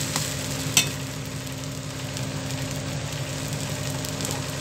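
An uthappam sizzles steadily in a pan right after being flipped, a continuous close frying hiss with one brief clink early on and no voices.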